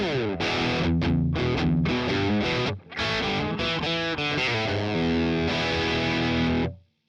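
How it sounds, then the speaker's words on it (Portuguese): Electric guitar through a Boss Katana Gen 3 amp on the crunch preset, a mild overdriven tone; loud continuous chords and riffs with one short break, played alone for about seven seconds. "O crunch, ele já vai ser uma pré-distorção."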